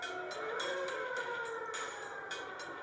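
A wavering factory warning siren at a steel mill wails steadily, with faint repeated clanks or bursts of noise from machinery mixed in.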